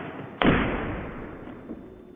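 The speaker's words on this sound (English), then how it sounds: "to hit a shaving cream can with a science gun" An electromagnetic science gun fires a concrete anchor at a shaving cream can, giving one sharp, loud thump that decays over about two seconds, with no talk.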